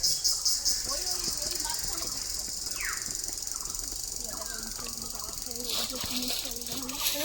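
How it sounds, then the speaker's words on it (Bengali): Bats call from the trees of a forest at a bird sanctuary as a steady, shrill, hissing chatter that runs unbroken throughout, with a brief squeak near the middle and faint voices underneath. "ব্যাটস ডাকছে, নড়ছে, ঘুমোচ্ছে আর কি।"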